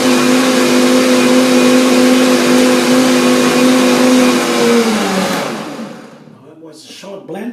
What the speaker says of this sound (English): Short blend only.